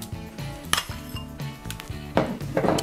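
A spoon or utensil scrapes and clinks against a bowl while a salad is mixed with mayonnaise, with irregular close knocks and rattles and a couple of louder clatters near the end.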